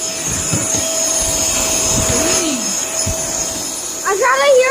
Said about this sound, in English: we are going to hear the sound of a vacuum cleaner